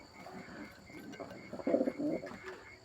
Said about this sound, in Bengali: এটা হইতাছে মেন পেয়ারার মা বাপ আমার কালদমের